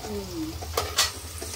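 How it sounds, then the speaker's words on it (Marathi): Whole garam masala with bay leaf dry-roasting in a pan for Agri-Koli style mutton, a soft crackle with two quick, sharp scrapes of the spoon near the middle, close up and brief. "अख्खा गरम मसाला आहे ना, मस्त असा भाजून ते चव येते"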